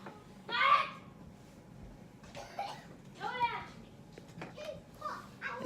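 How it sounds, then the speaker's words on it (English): A pet bird in a home with other birds gives short, scattered squawks and chirps, fairly faint against a quiet room. "Just a short video of my bird Phoenix"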